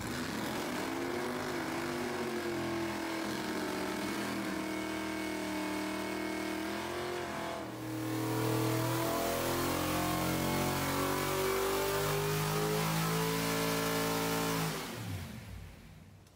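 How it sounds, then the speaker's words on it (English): A 530 horsepower small block Mopar V8 in a 1968 Dodge Dart revs loud and close, its harmonic engine note rising and falling through several throttle blips before cutting off near the end. "we got the 530 horsepower small block Mopar back into my 68 Dart now, and it's all hooked up, ready to go"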